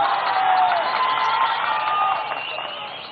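Audience applause at a Tamil political speech event, a dense sustained crowd wash with some cheering, loud at first and slowly fading, no speech over it.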